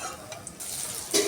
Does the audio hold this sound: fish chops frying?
yes